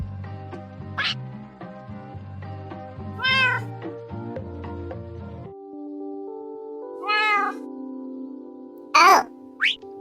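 A Minecraft cat meows several times over a plucky background music track, the rising mews coming in short bursts spaced seconds apart, with a couple of brief squeaky calls near the end.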